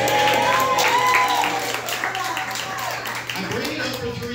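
Comedy club crowd at a stand-up showdown applauding an Army veteran comedian, a short burst of clapping and cheers with tonal whoops, fading slightly toward the end.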